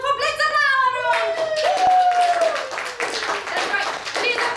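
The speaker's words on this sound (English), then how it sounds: "Everybody, the crowd goes wild for Blitzer now, everyone!" A children's library crowd at a puppet show claps and cheers loudly, with excited children's voices and a shouting adult voice over the applause.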